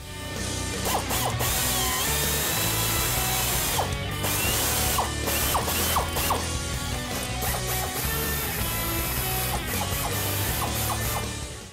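Ratchet clicking steadily while tightening downpipe bolts at the turbo on a 2015-2019 Mustang EcoBoost, repeated bursts of ratchet pawl clicks over a continuous loud mechanical background for the full length.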